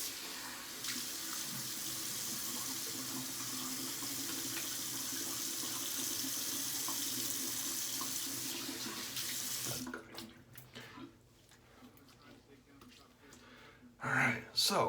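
Tap water runs steadily into a bathroom sink while a shavette razor fitted with an injector blade is rinsed under the stream, a constant close hiss and splash that cuts off near the end, leaving a few small clatters.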